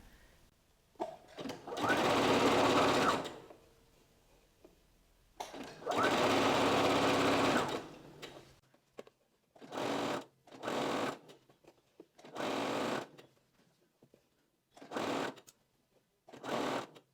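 A sewing machine stitches a blouse collar seam along a fold line in repeated bursts, two longer runs followed by several short quick ones, separated by quiet pauses.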